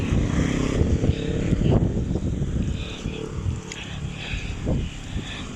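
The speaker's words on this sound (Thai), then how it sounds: "ลมแรงมากจะสังเกตว่าตอนนี้คือลมแรงมาก" Strong wind gusts across an outdoor colocasia garden with a steady, rushing roar that buffets the microphone, swelling and easing in waves.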